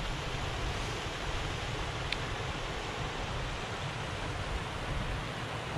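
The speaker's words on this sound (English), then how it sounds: "Look at that little cascading waterfall there." Steady, broad rushing of a small cascading waterfall in the Cairngorms, water pouring and splashing nearby, continuous and unbroken with no voices.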